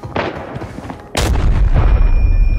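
A loud, close bomb blast erupts in a video game, preceded by scattered gunfire and followed by a sustained rumbling roar.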